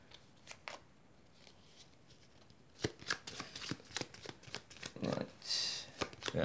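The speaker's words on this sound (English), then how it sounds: "So, bandit deck has been shuffled afresh." Samurai Spirit bandit deck of cards being shuffled at a tabletop, a series of crisp riffling and snapping bursts that grow busier and louder after a quiet start, close to the mic with no talk.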